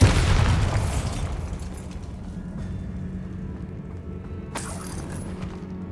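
The Bombarda spell explodes in Hogwarts Legacy with a loud booming blast that trails off into rumbling debris, followed by a sharp burst or crackle near the end.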